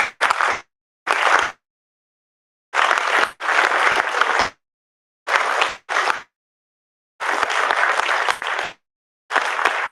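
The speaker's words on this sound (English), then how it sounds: "Let's keep the applause going, please." An audience at a political science department event claps in short, loud bursts separated by complete silences, giving a choppy, stop-start run of applause.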